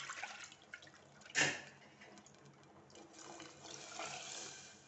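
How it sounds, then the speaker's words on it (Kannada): Water pours into a pot of rasam holding cooked toor dal, a steady near hiss and splash with one brief louder gush early on, then a softer, uneven trickle. "ಸ್ವಲ್ಪ ನೀರು ಕೂಡ ಹಾಕ್ಕೊಳ್ಳೋಣ."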